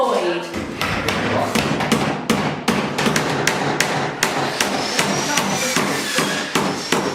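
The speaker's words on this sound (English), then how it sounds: "I'm also fixing these on with nails" Repeated sharp hammer blows drive nails into a skirting board fitted to a partition wall, close and loud, in an uneven steady rhythm of about a dozen strikes over several seconds.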